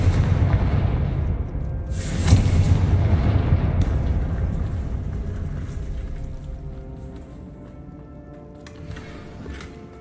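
Fiery Confringo spell blasts in Hogwarts Legacy, a heavy booming explosion with rumbling tail, followed by a sharp crack and later smaller bursts as the rumble fades.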